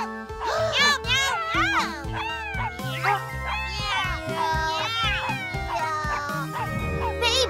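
A voice imitates a cat, repeating high, sliding meows in a rapid playful series, close and loud, set among dolls and children's play with lively chatter.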